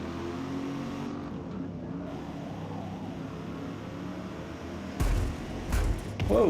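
A car passes close by in a flight-simulator scene, a brief rising engine whoosh breaking in loudly near the end over a steady low background hum.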